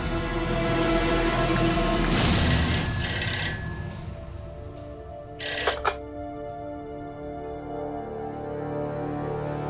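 A telephone rings on a redialed call, a bright bell-like tone sounding over a quiet low hum, then tapering off, with a short sharp ringing burst breaking in midway before a soft humming bed resumes.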